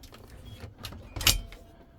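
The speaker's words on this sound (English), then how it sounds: "with a double door. There you go, it opens both ways." The double door of a fridge in a Weinsberg CaraHome 650 DG motorhome is opened, giving a quiet click and rustle followed by one brief, louder latch sound.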